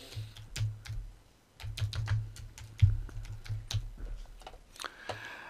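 Computer keyboard typing as an album name is entered in Photoshop Elements, a close series of crisp key clicks in uneven bursts with a short pause near the start.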